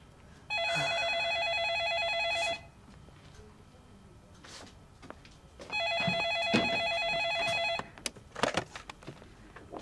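A telephone bell rings in two long bursts a few seconds apart, a bright steady electronic trill, close and clear, with faint room noise and rustling between rings.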